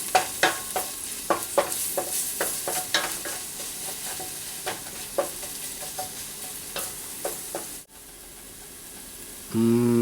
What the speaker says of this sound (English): Let it fry until it becomes golden brown.